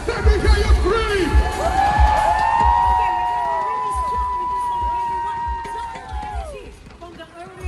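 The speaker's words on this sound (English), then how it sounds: "Let me hear you scream." A stadium crowd at a Singapore National Day Parade preview screams and cheers in a long sustained roar, with high shrill voices rising and falling and rhythmic stamping or clapping beneath, loud and close.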